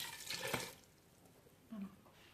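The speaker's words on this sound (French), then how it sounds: "Je vais rincer ma marmite avec l'eau de cuisson et je le mets dedans." A cooking pot is rinsed with the cooking water from white beans: a short, quiet wash of liquid, then a brief faint splash after a pause.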